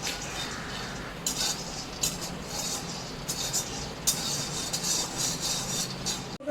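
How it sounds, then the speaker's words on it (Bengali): Peanuts dry-roast in an empty kadai, a steady dry rattle and scrape with repeated metallic stirring clinks against the pan, continuous and close with no talk. "চেনে বাদামটা খালি কড়াইতে গরম করে দিয়েছি"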